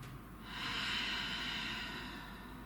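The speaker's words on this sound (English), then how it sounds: "you're going to start with some deep inhalations and some big open mouth exhales" A single long, deep breath during a yoga sculpt class with weights, with a soft draw of air swelling into a steady, airy exhale that fades out, close and unaccompanied by speech.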